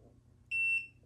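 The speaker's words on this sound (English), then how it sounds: "should hear the beep going off" A Calogy heat press timer gives a single clear electronic beep lasting about a third of a second, alone over a faint low background hum.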